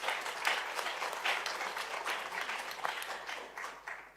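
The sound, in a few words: audience applause for His Excellency Thabo Mbeki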